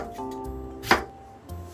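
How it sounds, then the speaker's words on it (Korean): A knife cuts through an onion on a cutting board, with one crisp, close chop in the middle and softer knocks before and after in the quiet kitchen. "양파는 머리를 자르고 얇게 잘라주세요"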